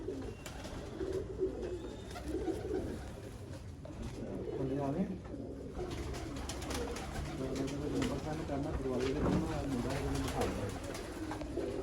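Pigeons of a prized Mian Nazir bloodline coo on a rooftop loft, soft repeated throaty calls in a steady stream, with someone talking over them nearby.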